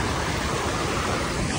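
Floodwater rushing across a road, a steady loud broadband wash of flowing water with no pauses.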